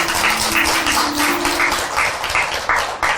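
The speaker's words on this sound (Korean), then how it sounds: "박수 소리도 좋고" Applause from a Buddhist temple congregation during a dharma talk, a steady wash of many hands clapping with a faint sustained tone underneath, continuous for a few seconds.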